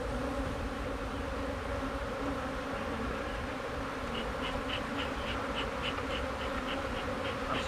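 Honeybees being smoked down into the lower box of a hive make a steady, dense buzzing swarm close by, droning continuously with no speech over it.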